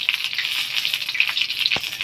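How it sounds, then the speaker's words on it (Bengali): Pumpkin flower fritters sizzle steadily in hot oil in a home kitchen, a close, continuous crackle with small pops and no talking. "এই দেখো এটা হচ্ছে কুমড়ো ফুলের বড়া ভাজছি"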